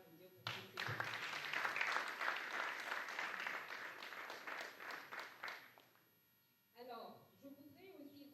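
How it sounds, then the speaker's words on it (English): Conference audience at the ICT For Africa Conference & Summit 2025 breaks into dense applause that lasts about five seconds, fades out, and is followed by a man resuming speech over faint electrical hum. "Est-ce que vous pouvez applaudir pour tous ces gens?"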